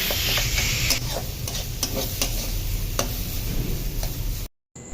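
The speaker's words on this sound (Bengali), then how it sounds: "আবারও নাড়াচাড়া করে নিয়ে কুক করে নিতে হবে" Chopped tomatoes with salt and spices cook in a pan over medium flame, a constant sizzle broken by repeated sharp spatula taps and scrapes as they are stirred, ending in a sudden cut to silence.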